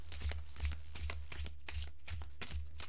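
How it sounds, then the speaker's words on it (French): Deck of oracle cards being shuffled, a run of crisp riffling bursts in a steady rhythm, close and fairly loud, with no talking. "Tirage de la carte."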